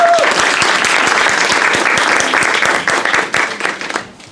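Audience applauding at an opening ceremony for a social insurance board office in Türi, Estonia, a dense, steady crowd clapping that is loud at first and fades away over the last second.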